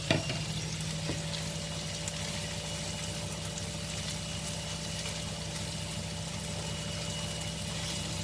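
Potato samosa filling fries and is stirred in a pan, giving a steady close sizzle with a continuous hum underneath and a single knock at the start.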